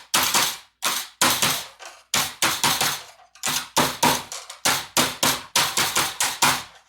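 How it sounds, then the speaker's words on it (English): A copper piece for a rose is hammered flat with quick, sharp metallic strikes, close and loud, falling in uneven bursts of two to four blows. "I'm going to hammer it out."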